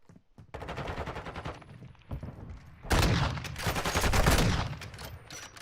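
Rifle shots fire in a Call of Duty-style Search and Destroy match, loud and close, with dense rapid bursts of gunfire filling the game audio and no voices over them.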